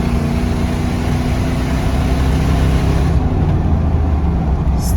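A 2005 Ford F250 with a 5.4 engine on a test drive, heard as a steady, loud engine and road drone from inside the cab that holds constant throughout, with no talking.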